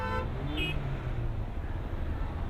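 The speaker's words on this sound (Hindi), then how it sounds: "भाई ये पालनपुर में बहुत बुरा ट्रैफिक है अभी, बहुत ही बुरा।" Jammed road traffic in Palanpur idles with a low rumble as a couple of short car horn toots sound near the start.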